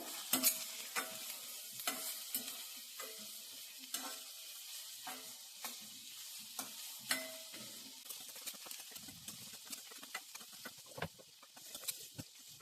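Grated radish sautés quietly in a pan for chutney, giving a soft steady sizzle broken by repeated scraping and stirring strokes, close and fairly faint.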